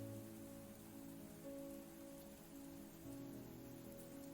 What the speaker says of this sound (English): The sound of rain was so annoying.